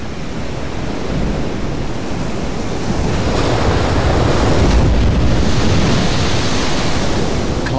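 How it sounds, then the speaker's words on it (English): Storm waves crash heavily onto an exposed Scottish Highlands coastline, a loud, continuous roar of surf with gusting wind buffeting the microphone, swelling stronger midway through. "And the waves tower to more than 12 feet."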